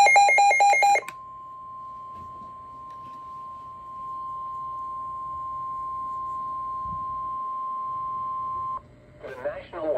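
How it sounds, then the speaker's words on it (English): A severe thunderstorm warning issued by the National Weather Service in Fort Worth for Collin County, north central Texas, opens with loud Emergency Alert System data bursts, then a long steady alert tone that cuts off before a short burst. "I've got my camera handy on me to catch the alarm"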